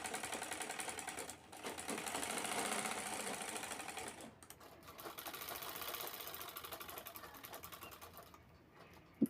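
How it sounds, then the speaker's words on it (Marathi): Sewing machine stitching the side seams of a handbag, a steady continuous mechanical whir with dense rapid needle clatter that holds throughout, briefly dipping and restarting. "त्यानंतर दोन्ही बाजू शिवून घ्यायच्यात पर्सच्या. शेवटी खालची बाजू शिवून घ्यायची आहे तळात."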